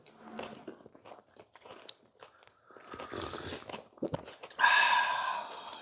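Eating gimbap and a snack at home: close, wet chewing and crisp crunching bites come in irregular bursts, and a louder crunchy passage near the end.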